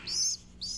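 Baby pigeons being hand-raised give two high, thin chirps, the first longer and the second shorter after a brief pause, close and clear against a quiet background.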